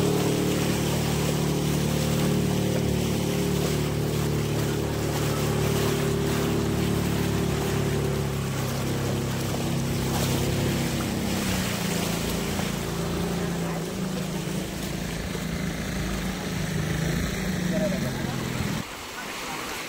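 A motorboat on the sea off Suvarnadurg fort runs with a loud, steady low engine drone and wind rush for nearly the whole stretch, dropping away just before the end; voices are faintly present beneath it.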